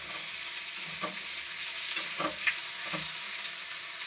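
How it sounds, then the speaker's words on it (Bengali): Potatoes and cauliflower fry in a pan over a high gas flame, a steady close sizzle with a few soft stirring scrapes. "এই যে আলু ফুলকপিটা ভাজা হচ্ছে"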